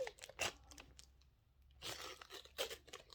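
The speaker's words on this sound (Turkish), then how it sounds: "Yırttım. Daha içinde var." Packaging being torn open by hand, a few quick rough tearing and crinkling bursts with brief pauses between them, close and fairly quiet, with no talking.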